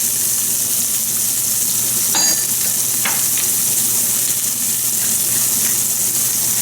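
Onions sizzle steadily in a hot pan for a tagine with chickpeas and eggplant, a loud continuous hiss of frying with a couple of faint clinks of a utensil.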